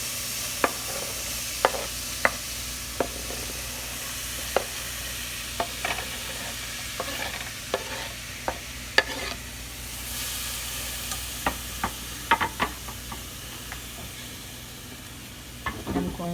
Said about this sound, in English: what I am going to add now to the oil are my vegetables